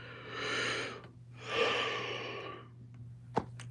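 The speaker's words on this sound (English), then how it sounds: "Apologize for yawning." A person yawns twice in a long, breathy drawn-out exhale, the second rising higher, followed by a quiet pause and a short sharp sniff or click near the end; close and fairly soft.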